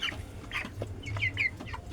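A 25-day-old broiler chicken clucks close by in a short run of soft, repeated clucks and a few higher squawks, with faint background noise.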